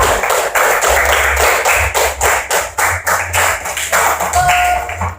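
Loud, close clapping from a group of teachers in a workshop, steady and rhythmic with a few uneven claps, ending with a brief high tone near the end.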